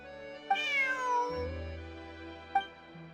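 A cat meows inside the Genshin Impact video game: one drawn-out, falling meow, then a short second cry, alone over a quiet game background.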